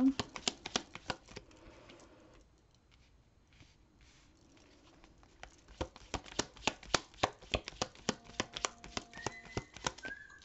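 Oracle cards being shuffled for a tarot reading, quiet and close: a soft, papery riffling first, then after a brief lull a run of crisp, rapid card snaps and flicks.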